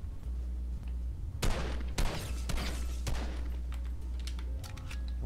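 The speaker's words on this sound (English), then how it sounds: "I'm gonna fucking shoot." Gunfire in the Fortnite video game, a few sharp shots in a loose burst over steady background game noise, fairly close, with no talk over them.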